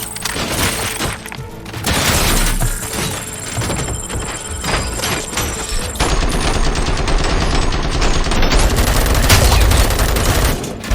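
Heavy gunfire fills a prison riot in RoboCop: Rogue City, loud and near. Dense overlapping shots come in continuous volleys mixed with impacts and shattering debris over the full stretch.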